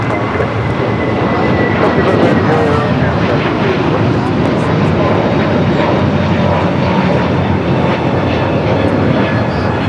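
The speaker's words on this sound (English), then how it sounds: "We do have a JetBlue departure here on the south side." JetBlue jet departing from the south side runway at LAX bound for Boston, a loud dense roar of engines under steady broadband noise with faint radio-like chatter mixed in.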